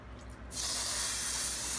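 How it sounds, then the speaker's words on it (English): Brake cleaner sprayed onto the valve cover of a 2003 Ford Explorer with a 4.0L SOHC V6, a sudden steady aerosol hiss that starts after a brief quiet moment and continues close up. "you want to take some brake clean and start cleaning it up real good, wiping it down"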